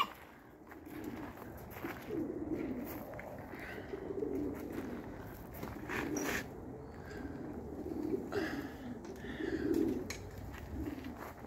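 Pigeons coo steadily in a coop, a soft low repeated murmur of several birds close by, with occasional faint chirps and no talking.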